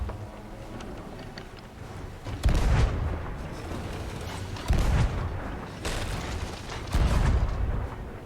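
Cannon fire in the pirate video game Sea of Thieves: four heavy booms land at uneven intervals over a steady rumbling, roaring sea-and-wind background, each blast loud and low.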